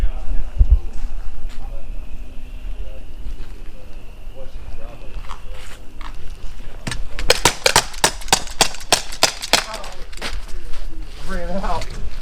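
Rapid gunshots during a shooting drill, a burst of sharp cracks clustered in the second half, with voices and movement noise around them.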